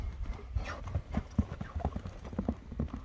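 A horse's hooves clip-clop in an uneven rhythm of close thuds on hard ground, with a faint voice and outdoor background underneath.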